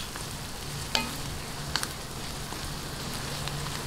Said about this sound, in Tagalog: Ayan, bisa-bisahin lang po natin.